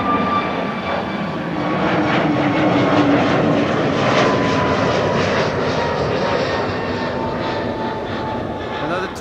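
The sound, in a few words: Transavia Airbus A321neo airliner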